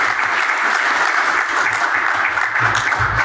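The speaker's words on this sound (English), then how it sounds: "Get a round of applause just for that." Conference audience at a management meeting bursts into sustained applause, loud and dense, a steady wash of many hands clapping close by with no talk over it.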